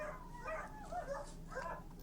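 Dogs whimpering and yipping at a distance, a few faint high-pitched whines rising and falling over a steady background hiss, with no voices heard.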